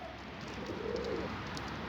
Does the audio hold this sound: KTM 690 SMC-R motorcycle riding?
no